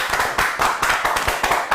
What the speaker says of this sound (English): coming from that round of applause from the left of me here